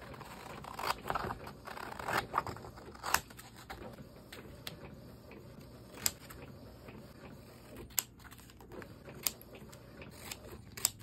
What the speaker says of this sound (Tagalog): ngayon naman ikakat ko na siya.